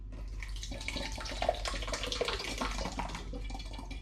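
Ginger ale wort pours steadily into a wok, a soft continuous splashing and trickling with occasional drips, fairly quiet.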